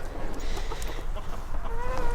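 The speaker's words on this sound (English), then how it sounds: "Now we're gonna go feed the chickens in the front." Chickens at feeding time cluck and chatter in quick, irregular bursts, fairly close, with a busy scratchy background throughout.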